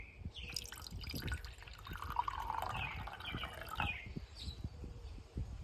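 Water pours into a cup to check it holds liquid, a close, bubbling trickle with small drips and rising gurgles that fade out toward the end.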